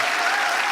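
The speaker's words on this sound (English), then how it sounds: "I don't know why y'all clapping." Steady audience clapping fills a short moment, dense and continuous at an even level with no voices heard.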